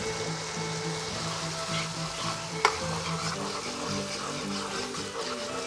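Fresh garlic sizzling as it is stirred into a yogurt masala for red bean pulao, a steady close fry with scraping stirs and one sharp clink partway through.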